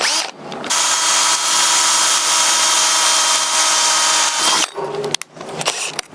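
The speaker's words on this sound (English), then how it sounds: "drilling some holes" A power drill boring holes in aluminum hose fittings, one loud sustained high-pitched whine lasting about four seconds, followed by brief bursts and clicks as the drill stops.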